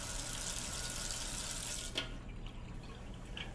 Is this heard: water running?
yes